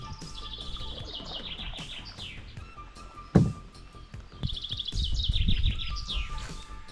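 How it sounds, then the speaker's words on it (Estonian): Birds chirp and sing through a sunny outdoor scene on the Võhandu river during a canoe trip, with steady layered song, a sharp thump near the middle and water or paddling splashes underneath. "Linnud laulavad, päike paistab"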